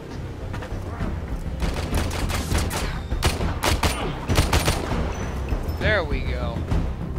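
Rapid pistol gunfire in the Warframe video game, with sharp repeated shots cracking out over game music and effects, loud and close.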